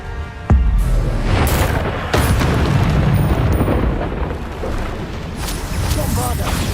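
Repeated Bombarda spell blasts from Hogwarts Legacy on PS5 boom in a dense, rumbling stream of magical explosions and impacts, loud and close with little pause between bursts.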